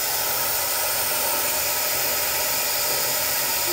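A hair dryer runs steadily in a small bathroom, a close, continuous loud whoosh of airflow with a constant motor hum and no breaks.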